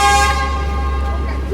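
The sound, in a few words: train horn honking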